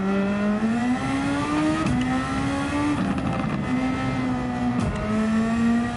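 Superformula race car in a racing video game at the Nürburgring, engine note climbing steadily through gear changes with brief dips at each shift, loud and continuous with no talk.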